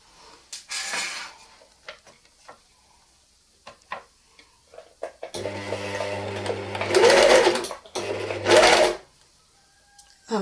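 An overlock serger stitches a jersey neckline, starting with faint scattered handling clicks before running in two loud, fast rattling bursts close up, separated by a short pause.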